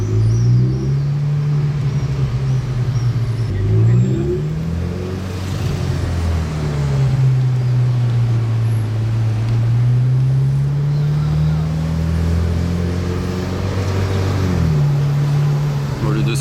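A supercar laps a race circuit, its engine loud and close with the pitch swelling and dropping through gear changes over a steady roar, wind noise rushing across the microphone.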